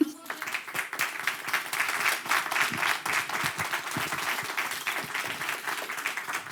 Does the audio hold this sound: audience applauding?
yes